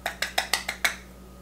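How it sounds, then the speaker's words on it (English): A utensil mixing a butter, sugar and orange zest filling in a bowl gives six quick, evenly spaced, ringing taps close by, then stops, with no talk. "now that I'm going to mix up my filling, which is butter and sugar, that wonderful orange zest"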